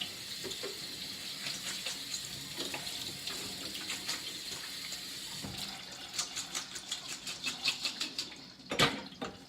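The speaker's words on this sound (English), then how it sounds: "I'm actually gonna give these a little bit of a rinse, just because there's some ice crystals." Running water from a kitchen sink tap rinses diced turkey in a colander, a steady hiss with intermittent splashy spatters growing busier toward the end, with no talking.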